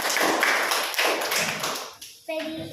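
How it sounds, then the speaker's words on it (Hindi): Children in a government school classroom clap their hands together in a loud, dense burst, with a teacher's voice and kids' chatter mixed in; the clapping fades near the end. "चलो ताली बजा दो।"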